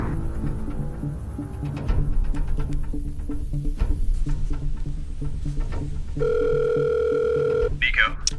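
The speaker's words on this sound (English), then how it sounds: "Nico, Gene, give me a quick trace on that number that just called my phone." A telephone rings with an incoming call in a military thriller film scene. A steady electronic tone sounds for about a second and a half over a murmur of background sound.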